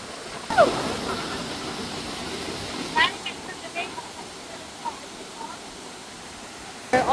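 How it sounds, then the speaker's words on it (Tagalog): Aliw Falls pours out a steady broadband rush of water that stays constant throughout, with a few faint knocks and voices over it. "Naabot na sa diri sa Aliw Falls."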